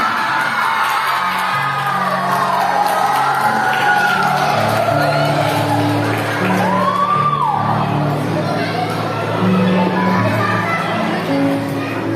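At a school awards ceremony, an audience cheers loudly for the girls' first-prize team, with continuous crowd noise, whoops and children's shouts mixed with steady background music throughout.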